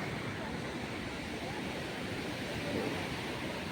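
Sea waves wash against the rock-built shoreline at Worli Sea Face, giving a continuous broadband roar with wind noise, steady and fairly faint throughout.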